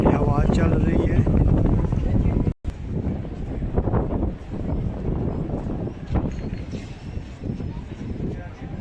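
Wind blows steadily past a microphone at London's Tower Bridge, a loud, continuous rumbling gust noise with a brief dropout partway through and faint crowd sounds beneath.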